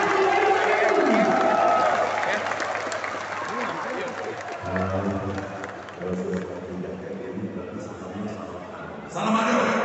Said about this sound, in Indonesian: Tepuk tangan untuk Gubernur Sumatera Selatan, Bapak Adi Erwin.